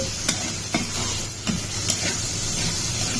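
Onion and garam masala frying in a pan with a steady sizzle, broken by a few sharp clicks of a spoon against the pan.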